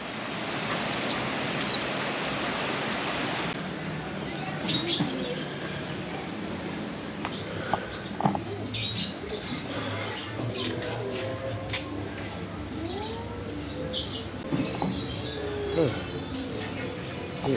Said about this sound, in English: Got birds here.